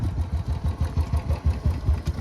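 A motorcycle engine running with no silencer idles close by in a rapid, throbbing low putter with regular pulsing beats and no talk.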